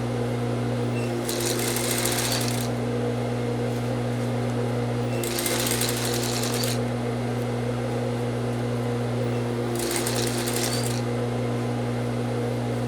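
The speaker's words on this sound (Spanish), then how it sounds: "lo que voy a hacer es que voy a empezar a coser" Three bursts of a sewing machine stitching a seam, each rapid, whirring run lasting about a second, set over a loud constant electrical hum, with no talking.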